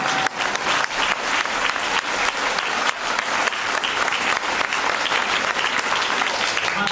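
Sustained audience applause from a theatre crowd, dense and steady clapping that carries through the whole stretch without a pause, fairly close and even in loudness.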